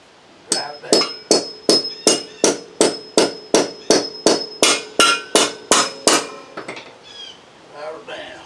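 A hammer drives a bolt with its nut down into a wooden porch post during a 1902 farmhouse renovation. About fifteen sharp, ringing metallic blows come in a steady, even rhythm, close and loud, followed by some softer handling noise.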